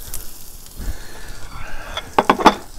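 Onions drop into olive oil on a hot grill for a smash burger, producing a short, close hiss and crackling sizzle that swells into a few sharp pops at the end.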